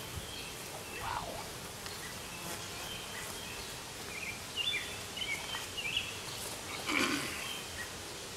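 Honeybees crowding the top of an open hive box with foundationless frames, a soft, diffuse hum close by with faint rustling and a few brief sharper tones rising over the low, steady buzz.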